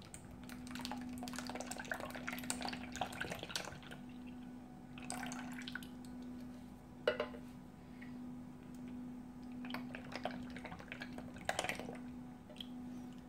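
Evaporated milk poured into a custard mixture for a caramel custard cake, soft intermittent liquid gurgles and splashes over a faint steady hum, close and quiet with no talking.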